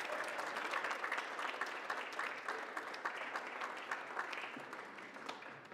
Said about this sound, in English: if we could give them a round of applause for helping us support this event.